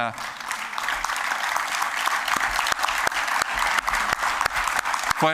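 Audience applause fills a documentary screening hall in Gran Canaria: dense, steady clapping from a sizable crowd, close and even in loudness across the whole stretch.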